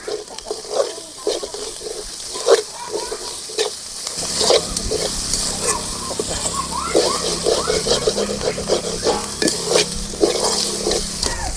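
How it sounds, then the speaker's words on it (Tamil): Grated carrot with onion and chili sautéing and sizzling in a pan, starting after a few seconds of a softer sizzle, with steady frying and intermittent stirring scrapes close by. "கேரட்டு போட்டு கொஞ்ச நேரம் வணங்கினா போதும்"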